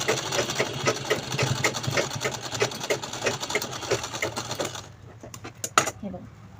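A sewing machine stitches thick fabric for a small purse, running in a fast, steady mechanical chatter for several seconds, then stopping, followed by a few scattered clicks.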